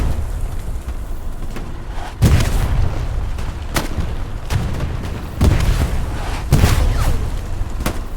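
Commander-called artillery strike in a first-person war game lands as a series of heavy booming explosions, about six sharp blasts at irregular intervals over a low rumbling background.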